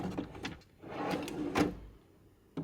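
A drawer is pushed onto its slides in a workbench cabinet, with scraping and a few knocks and clunks, including a sharp bump at the end. No one speaks.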